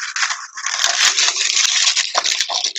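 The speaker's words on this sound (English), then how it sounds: "Square of greaseproof paper and just squash it in." Greaseproof paper squashed and pressed into a baking tin, giving close, loud continuous crinkling and crushing that runs for a few seconds with scattered sharp crackles and no talk.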